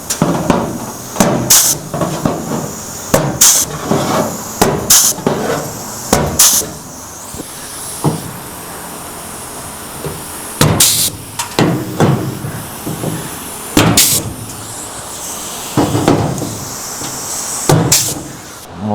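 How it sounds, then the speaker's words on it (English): A pneumatic punch and flange tool punches holes in a car trunk gutter on a 1963 Impala. Close, sharp hissing bursts come in irregular clusters, about a dozen, with short quiet gaps between them. "little pneumatic punch tool, it's also a flange tool. So all we're gonna do is punch probably, I don't know, 10 holes or so."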